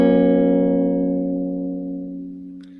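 An up major chord strummed once on a Kite guitar, ringing clear and loud, then sustaining and slowly fading over a few seconds, with a faint squeak of fingers at the end.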